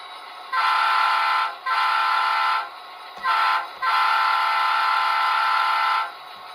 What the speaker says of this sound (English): What's even louder is the horn.